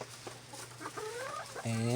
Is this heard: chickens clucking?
yes